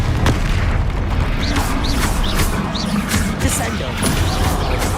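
Deep booming blasts from a spell in a wizarding video game fill the clip, loud and continuous, with layered rumbles and a few sharper cracks throughout.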